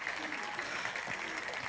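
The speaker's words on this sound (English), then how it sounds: "Give these a huge round of applause." Audience applause at a FameLab International final science-communication contest, a steady wash of clapping with faint crowd noise filling the short stretch.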